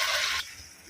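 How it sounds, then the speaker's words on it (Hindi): Water is poured into a cooking pot holding peas, green chili, garlic, ginger and salt for savoury vermicelli. It makes a strong, close, rushing splash that stops abruptly after less than half a second, leaving a quiet room. "इसके बाद पानी डाल देंगे।"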